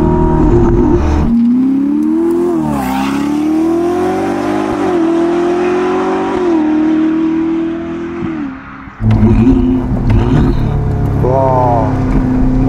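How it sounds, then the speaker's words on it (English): A Ferrari SF90 Spider hybrid V8 with the roof off revs hard and close, its engine note climbing and falling through gear changes, with turbo whoosh and a brief lull before a second surge. "the lovely thing about these engines is that you really hear the turbos spooling, and you hear the rocks knocking underneath the car"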